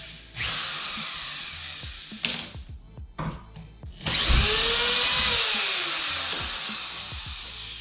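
A power drill whirs in short bursts, then runs in one long, loud, steady spin that slowly winds down, close by with no talking.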